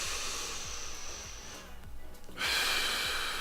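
Slow, deep breaths are taken during a breathing exercise: a long soft inhale hiss, a brief pause, then a stronger airy exhale. The breathing is close and quiet, with no talking.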